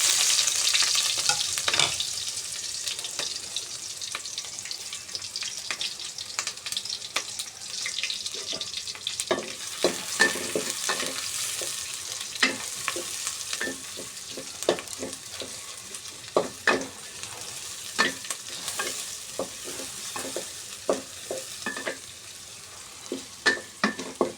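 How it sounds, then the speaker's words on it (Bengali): Onions fry in hot oil with bay leaf, cinnamon and cardamom, a soft steady sizzle broken by frequent clicks and scrapes of stirring, close and fairly quiet, with little or no talk. "পেঁয়াজটা হালকা ভেজে নেব।"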